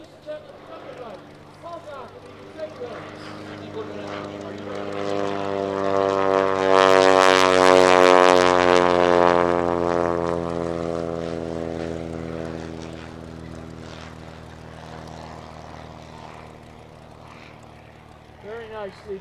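A Great Lakes biplane working through low, slow aerobatics at an air show, its propeller engine droning and swelling to a loud pass overhead before fading, with an announcer speaking over it.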